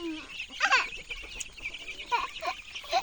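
Chickens cluck in short bursts close by, with a rooster-like call rising at the start amid soft farmyard background noise.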